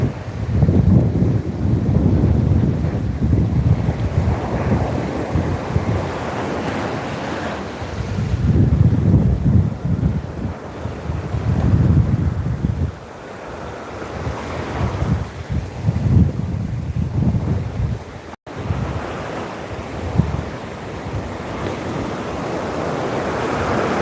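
Ocean waves surging and washing onto a Hawaii shore, loud and continuous with swelling crests and heavy wind buffeting the microphone.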